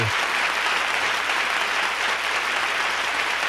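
An audience at a product-features class and concert applauds the performer and the Lowrey Symphony, a dense, steady wash of many hands clapping, loud and continuous, with no voices standing out.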